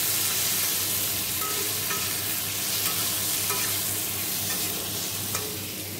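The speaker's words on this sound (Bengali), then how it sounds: "এখানে পটলটা ভাজা হচ্ছে" Pointed gourd sizzles as it fries in a pan, a loud, continuous close hiss with faint crackles and occasional stirring scrapes.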